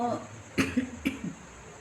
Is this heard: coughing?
yes